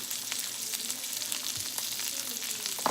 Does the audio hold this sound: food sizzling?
yes